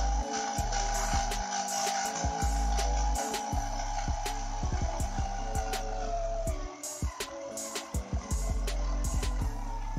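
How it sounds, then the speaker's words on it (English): A DC motor driven through a DF Robot light and motor driver module whirs steadily close by, its hum holding through a series of rapid clicks and crackles, with no speech. "I will press the start switch to start the motor"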